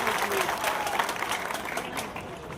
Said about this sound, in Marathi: जोरदार टाळ्या वाजवाव्या।